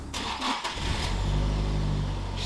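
A Nissan 180SX with an SR20DET engine cranks with a few quick starter bursts, then catches and settles into a steady, close idle.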